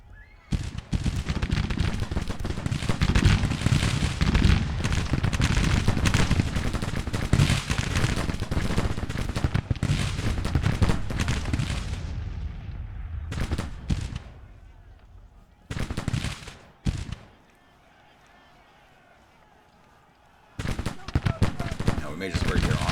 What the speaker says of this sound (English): Those volleys should have been a lot better.